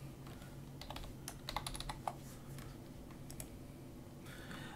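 Quick, light keystrokes tap on a computer keyboard as a promo code is typed in, short irregular bursts of clicks close up in a quiet room.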